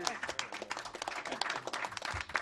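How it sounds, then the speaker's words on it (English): Audience applause at a live event, a brief wash of many hands clapping at moderate distance, fairly quiet and dense, with voices mixed in. "So let's give it nice applause again for Dr. Julius Garvey."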